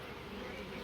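Honeybees buzzing around a strong hive, a steady, even drone that fills the whole brief moment at moderate loudness, with no pauses or talk.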